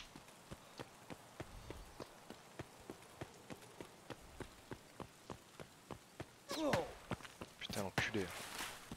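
Rain falls in the shooter game Escape From Tarkov as a steady patter, with regular footstep-like thuds marching through it and a few louder, busier bursts near the end.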